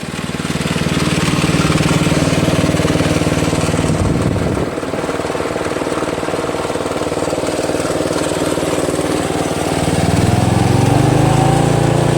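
A Toro Wheel Horse Recycler riding mower with a Briggs 8HP engine runs loud and close, a steady buzzing drone that dips briefly before the throttle opens up and the engine roars harder near the end.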